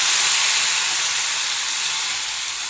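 A spice paste frying in a pan for a ridge gourd masala curry, producing a loud, continuous hissing sizzle up close with no talking.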